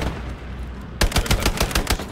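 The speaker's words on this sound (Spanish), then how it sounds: "Tengo tiros aquí hacia la derecha." Rapid automatic gunfire in the World War II shooter Hell Let Loose, a loud close burst of rhythmic shots that starts abruptly after a moment of background ambience.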